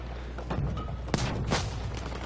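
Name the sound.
explosions in a video game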